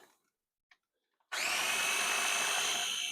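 A KitchenAid stand mixer starts up abruptly and whirs steadily at close range as it blends salmon waffle batter with Dijon mustard, a loud constant motor drone after a few faint knocks.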